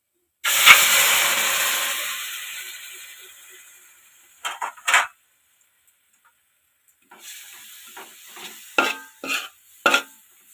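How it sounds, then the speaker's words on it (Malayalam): Tamarind water poured into hot fish curry masala in a pan, Kottayam style, setting off a loud burst of hiss and steam that fades over a few seconds, then a few scrapes of stirring. "അതിലേക്ക് പുളിവെള്ളം ചേർക്കുകയാണ്"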